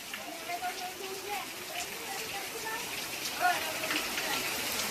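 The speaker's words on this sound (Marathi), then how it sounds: "मस्त पाऊस पडायला सुरुवात झालेली आहे" Rain has just begun to fall, a soft, steady patter of drops on surfaces close by, with people talking over it.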